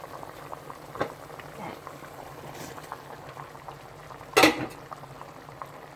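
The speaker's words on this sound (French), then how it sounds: "Je vais couvrir, laisser bien bouillir" Okra sauce with salt, chili peppers and fresh okra boiling in a covered pot, a steady low bubbling with a louder clatter of the pot near the end.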